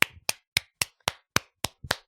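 Eight evenly spaced, sharp claps from a single person's hands, each one loud, close and crisp, sounding alone with no talk.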